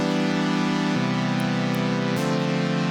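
A MIDI chord progression plays back in Cubase, three sustained synth chords changing about every second, steady and loud, with no voices.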